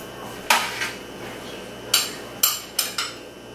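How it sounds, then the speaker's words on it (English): A spoon scrapes and taps against a dish as a herb, onion and ginger mixture is spooned onto salmon, giving five or six sharp, close clinks spread unevenly over a few seconds with quiet between them. "we're gonna take our little herb, onion, ginger mixture and spoon it on top"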